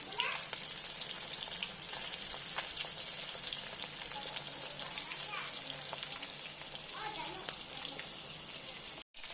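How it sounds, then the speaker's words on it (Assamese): Fish frying in a pan for a taro and elephant apple fish curry, with a steady close sizzle and crackle that carries on throughout and breaks off briefly near the end. "এতিয়া মাছকেইটা হ'ব দিছোঁ, মই ভাজ খাব দিছোঁ।"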